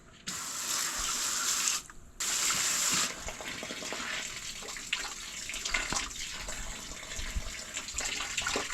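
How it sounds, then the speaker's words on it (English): Tap water gushes and splashes over freshly cleaned mullet at a sink, a loud steady rush that cuts off briefly, returns, then drops to a softer uneven splashing and trickle. "Rinse it off."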